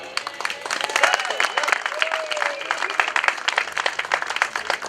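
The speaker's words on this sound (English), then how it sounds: "Let's give a round of applause to the board of directors and President Damore, Joe Damore, for a job well done" A crowd at a Cape Verdean Museum grand opening claps for the board of directors and the president, sustained, fairly dense applause with a voice speaking over it and a few whoops rising above.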